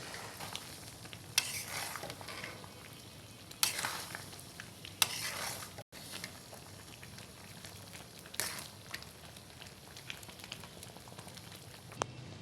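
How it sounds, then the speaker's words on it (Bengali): Mango pickle being stirred as jaggery melts into it, a soft continuous scraping and gentle sizzle with occasional louder scrapes of the spoon against the pan, no voices. "এখন কিছুক্ষণ নেড়ে নেব যতক্ষণ না গুড়গুলো"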